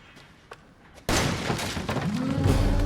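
Gunshot in Resident Evil 7: a sudden loud blast breaks in after a quiet stretch of faint knocks, followed by a dense, sustained roar of crashing and rumbling that keeps building until the end.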